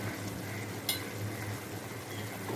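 Salt, chili and turmeric stir-fried in a pan for a drumstick and potato curry give a soft, steady sizzle, with faint scraping of the stirring and one brief sharper clink.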